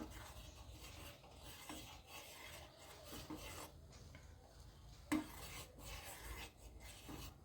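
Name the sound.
stirring milk with sugar in a pot for tea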